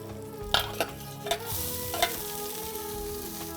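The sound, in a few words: onion frying in pan with urad and chana dal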